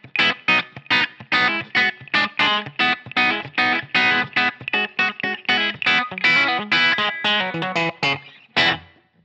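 An electric guitar runs through a Line 6 Helix WhoWatt 100 amp model, miked with a 121 ribbon mic. The breakup is gritty, the bottom end squishy, and choppy rhythmic strums repeat steadily for about nine seconds with no speech.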